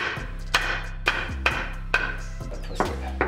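A hammer strikes a stuck brake part on a Jeep Wrangler in sharp, regular metallic blows, about six hits spaced roughly half a second apart, loud and close over a low mechanical hum.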